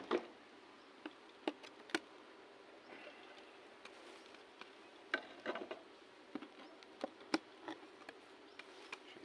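Faint buzzing of honey bees hovers in a quiet outdoor apiary during mite treatment, punctuated by scattered soft taps and clicks.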